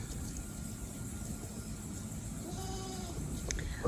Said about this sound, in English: the goats they're just walking around out here